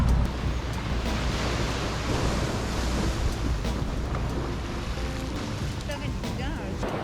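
Ocean surf washes along an O'ahu shoreline, a broad continuous rush of water with wind buffeting the microphone, occasional sharper splashes and clicks over a low rumbling wash.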